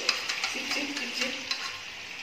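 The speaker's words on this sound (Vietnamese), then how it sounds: "Rồi chúng ta quấy đều cái chảo gia vị này." Stirring a pan of seasonings for a snakehead fish dish, with a scraping, faintly sizzling texture and a few light utensil clicks against the pan, steady and close over about two seconds.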